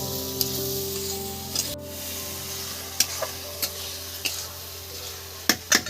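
Masala for chicken pota sizzling gently in a pan over a low flame, a steady soft frying hiss broken by occasional sharp clicks and taps of a stirring spoon against the vessel.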